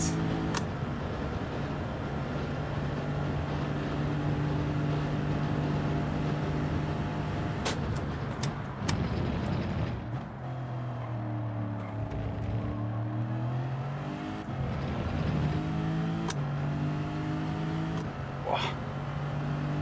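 A race car engine in Gran Turismo 7 roars steadily, its pitch climbing and dropping as it revs and shifts quickly up through the gears, with someone talking over it.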